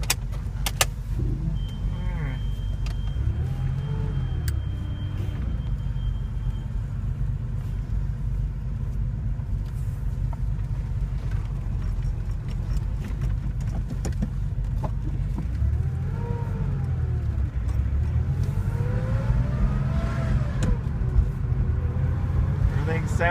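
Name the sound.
1983 Porsche 911 SC being driven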